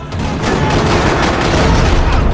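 Sustained gunfire in a parking lot in the video game Max Payne 3, a loud, dense wall of overlapping shots and booms that rattles continuously without pause.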